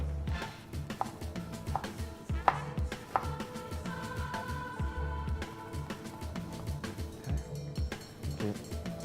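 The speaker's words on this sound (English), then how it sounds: "I'm going to take 1/4 of an onion and 1 clove of garlic again. This time around, I want them to be nicely chopped." Knife chopping a quarter onion and a garlic clove on a board, a steady run of short, close taps with a few sharper knocks, with cooking noise behind.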